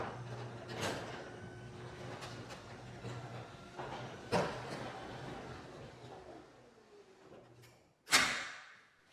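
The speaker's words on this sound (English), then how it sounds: "all you hear is the actual rattling of the doors" A garage door rattles and rumbles as the opener moves it, with a low motor hum and a few sharp clanks, ending in a loud bang.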